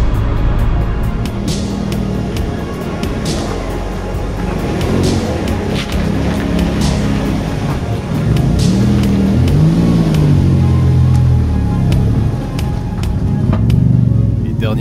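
A barn-find Maserati Biturbo drives along a road, its engine droning steadily with road noise and occasional revving, under intermittent talk from the driver.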